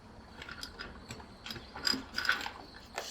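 A ratchet wrench clicks in short bursts while loosening a 13 mm nut on an Ariston water heater, quick rapid pawl ticks, close and fairly quiet.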